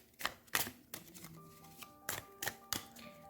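A deck of tarot cards is shuffled up close, several quick papery riffles and taps in an irregular rhythm, fairly quiet with a faint tonal hum in the background.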